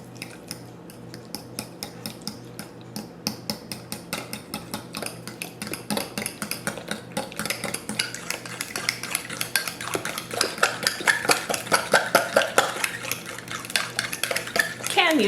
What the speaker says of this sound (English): And now we just mix it together.